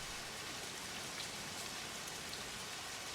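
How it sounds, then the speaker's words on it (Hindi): Heavy rain pours steadily in a dense, even hiss that holds at a constant level throughout, with no voices over it. "बहुत बारिश भी हो रही है"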